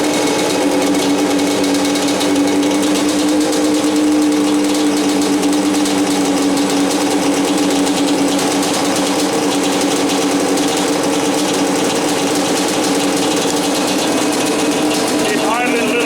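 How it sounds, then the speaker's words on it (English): A Yamaha Banshee ATV engine idles continuously at a slightly raised, even pitch while cold, close and loud, with a faint whine on top and no break throughout. "It's idling a little bit high."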